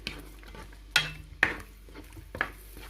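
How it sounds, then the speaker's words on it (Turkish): Okra stew with tomato paste being stirred in a pot, a spoon clinking sharply against the pot's sides three times over a low bubbling background. "birbirine biraz daha karıştırayım"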